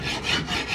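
Sandpaper rubs over wood in steady back-and-forth strokes, a close, continuous raspy scratching with a slight rhythmic swell, no voices.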